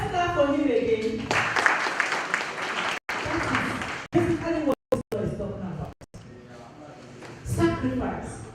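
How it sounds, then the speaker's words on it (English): Audience clapping at a Nigerian AlphaGPT summit hall, a dense burst of applause with a few brief dropouts, while a voice speaks over parts of it. "Let's clap for him again."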